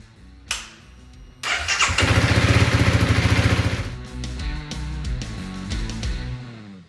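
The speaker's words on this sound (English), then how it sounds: "I'm going to warm the bike up and then double check the oil after." A Honda CRF 300 L motorcycle engine starts with a sharp crank, then settles into a loud, steady warm-up idle close by, its rumble easing slightly and wavering as it runs on alone.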